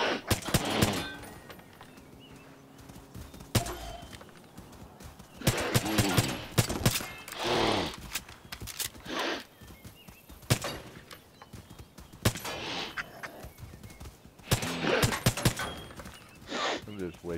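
Bursts of gunfire in Far Cry New Dawn come in several loud clusters separated by quieter gaps, with a voice talking between and over the shots.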